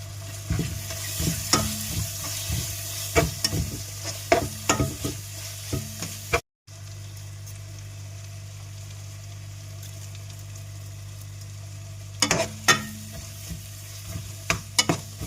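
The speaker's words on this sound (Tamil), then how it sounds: "இப்போ காலை நல்லா வதங்கட்டும்" Mushrooms sautéing in an oil-separated tomato and chilli masala for mushroom biryani, a steady close sizzle with bursts of spoon scraping and stirring against the pan, a brief break, then more stirring.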